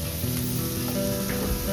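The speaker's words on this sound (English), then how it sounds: "remove them from the pan and add the second batch, repeating the same process." Shrimp searing in a pan for garlic butter scampi, a steady close sizzle of frying that holds at an even level throughout without pause.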